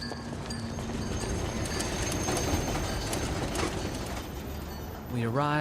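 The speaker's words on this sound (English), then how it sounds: "we caught a tram all the way into the city" A tram ride into the city, with a steady rumbling, rattling ride noise and rhythmic clatter throughout, rising toward the end to a brief squeal or chime as the car moves along.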